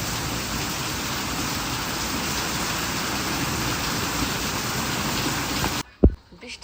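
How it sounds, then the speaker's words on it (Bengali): Heavy rain pours outside in a dense, steady roar for several seconds, then cuts off abruptly into near silence broken by a single sharp knock. "বৃষ্টি কিন্তু আজকে প্রচুর পরিমাণে হচ্ছে, এখনো চলছে বৃষ্টি।"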